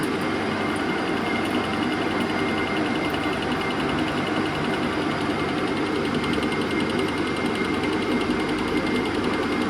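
A 676P universal milling machine spins a workpiece with a continuous whirring, humming mechanical drone at an even level, close by and without pauses or talk.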